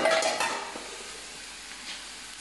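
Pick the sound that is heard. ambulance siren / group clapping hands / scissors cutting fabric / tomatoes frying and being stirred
tomatoes frying and being stirred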